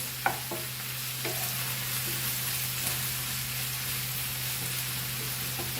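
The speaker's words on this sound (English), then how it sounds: "First fry the onions nicely, then prawns, but prawns takes very quick" Prawns sizzle steadily in a pan for Goan fried rice, a continuous close frying hiss with a few sharp utensil taps and stirring scrapes, alongside a low steady hum, no talk.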